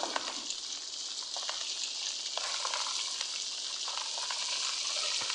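Steady, loud sizzling of food frying in a pan in a Roblox video game, a continuous crackly hiss with small pops throughout.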